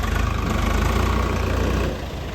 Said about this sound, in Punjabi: ਟਰੈਕਟਰ ਜ਼ੋਰ ਤਾਂ ਨਹੀਂ ਮਾਰ ਰਿਹਾ